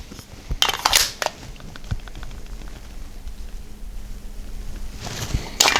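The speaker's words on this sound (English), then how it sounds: "So there's your rattle test." A Wheels Masada pistol is shaken to rattle its parts, giving brief clattering bursts near the start and end with quieter faint clicks in between, close by.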